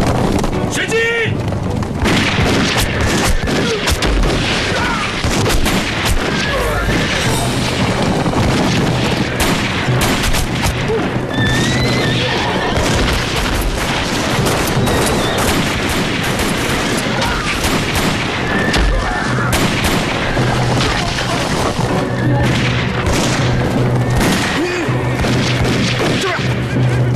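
Sustained gunfire and artillery pound through a wartime battlefield, a continuous loud barrage of shots and booming blasts with occasional shouts beneath.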